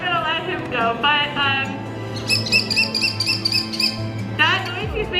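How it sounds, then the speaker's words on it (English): A kestrel, a small falcon held up close, gives rapid chattering chirps and twittering calls in repeated bursts, loud and near, mixed with a person talking over it. "that's a very, very common noise that you'll hear with kestrels."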